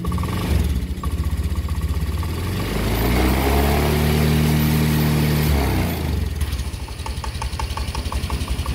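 A motorcycle engine idles, then rises into a sustained rev under light throttle before settling back to a steady, close, loud idle.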